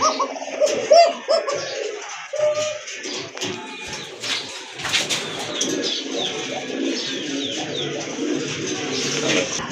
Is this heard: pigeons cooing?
yes